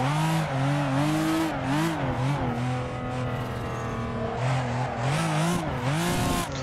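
A Toyota Supra drifting in Assetto Corsa, engine droning and wavering in pitch as revs rise and fall, with tire squeal smeared across the sustained slide, loud and close without talk.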